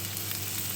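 Onions sizzle steadily in a pan of oil and ghee while being stirred, a brief, even, close frying hiss with no voices.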